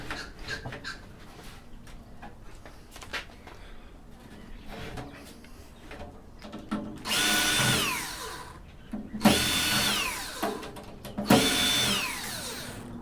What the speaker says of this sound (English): This drill works totally different now.